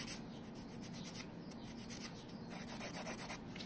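Sandpaper rubs steadily along the sides of a fiberglass nail extension, a close, continuous scratchy abrasion with no talk.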